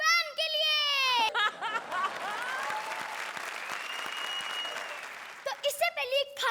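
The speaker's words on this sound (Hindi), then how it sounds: "तो जोरदार तालियां हो जाए सलमान खान के फैन के लिए।" A comedy show audience applauds a Salman Khan fan. Dense clapping rises between voiced, sung-sounding vocal bursts at the start and end, with speech over it.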